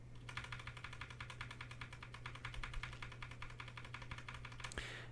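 Quiet stealth switches on a Razer BlackWidow Stealth mechanical keyboard are typed on in a fast, even stream of soft keystrokes, faint and close over a steady low electrical hum.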